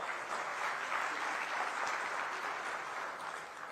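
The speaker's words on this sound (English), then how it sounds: "Can we have a round of applause, please?" An audience at a joint business session between the Ministry of External Affairs and Odisha breaks into sustained applause, a dense, even clapping that fills the hall without a break.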